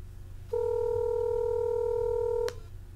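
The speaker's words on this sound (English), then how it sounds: "So I'm going to dial right now, and we'll see what happens." A telephone dial tone comes in after a brief quiet, holds steady and clear for about two seconds, then cuts off sharply with a click as dialing begins on a call to a web hosting company's phone support.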